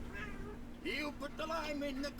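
A housecat gives several drawn-out, rising and falling meows close by, overlapping with a person speaking gently.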